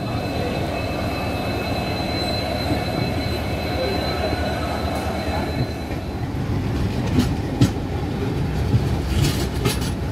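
The 12278 Puri–Howrah Shatabdi Express runs at speed, heard from on board as a loud, steady rumble of wheels and carriages. Faint squeals and clicks of the track rise toward the end.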